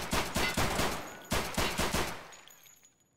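Loud, close gunfire from the shooter game SPTarkov comes as a rapid run of heavy shotgun-like blasts, a brief gap, then a few more shots before fading into quiet, with no speech.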